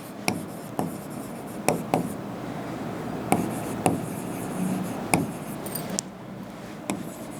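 Pen strokes on paper during a physics lesson on needle pressure, a string of short scratchy taps and strokes at irregular intervals, close and fairly quiet, with no talking.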